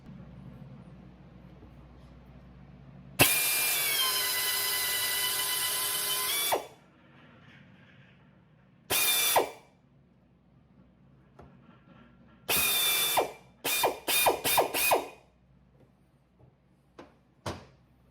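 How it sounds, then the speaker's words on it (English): A pneumatic air drill driving a valve guide cutter on a McCormick Deering engine whines in several bursts: one long steady run, then shorter spurts and quick stutters, close and loud, with quiet shop noise between. "the cutter's gonna be hooked up to an air drill, and we'll just drive it on down through"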